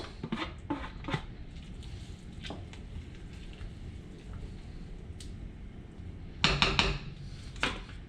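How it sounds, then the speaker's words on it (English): A spoon stirs green onions into a simmering red snapper fish-head soup pot. Light utensil clinks against the pot come early, then a louder burst of clatter near the end, over a soft steady bubbling hiss. "I'm gonna go ahead and stir in my green onions."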